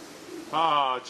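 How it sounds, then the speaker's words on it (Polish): A racing pigeon arriving at its loft gives a single short, close coo, heard just after a brief spoken word. "tu przyszedł kolejny gołąb"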